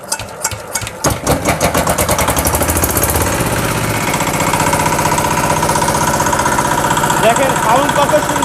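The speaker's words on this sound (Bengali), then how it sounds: "তো এই যে ইঞ্জিনটা এখন আপনাদেরকে স্টার্ট দিয়ে দেখাচ্ছি" A used, reconditioned EM175 5 hp diesel pump engine on a pump set cranks with a few sharp bursts. It catches after about a second and settles into a loud, steady, rapid chugging idle up close.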